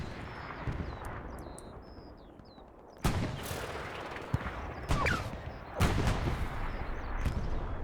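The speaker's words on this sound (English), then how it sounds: "Looks like multiple AT guns hitting this IS-1." Several anti-tank guns fire at an IS-1 tank in the WWII shooter Hell Let Loose, with three or four heavy booming blasts at irregular intervals over a constant rumble of battle, plus fainter sharp pops.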